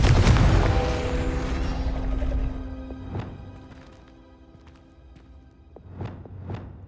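A Confringo blasting curse goes off in Hogwarts Legacy with a loud booming blast that decays over a couple of seconds, followed by sharper impacts and crackles, with a pair of quick bursts near the end.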